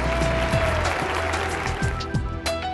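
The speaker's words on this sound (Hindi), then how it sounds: "तो हर बार की तरह उनकी तुकबंदी पर इस बार भी जमकर तालियां बजी।" Dense, steady applause from an audience at a speech on the stage of Fergusson College, crowding the whole stretch at even loudness with no clear voice standing out.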